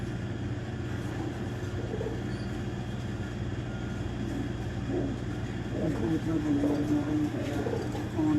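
Pigeons coo softly in a loft among a keeper's birds, low murmuring calls building toward the end beneath a steady rumbling background and someone talking.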